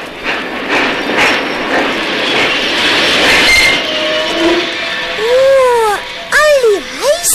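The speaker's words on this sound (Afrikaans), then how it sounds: "hou die trein stil" Train rolling to a stop, broad rumble and rattle of the cars giving way near the end to rising and falling wheel squeals, loud and close with no talk.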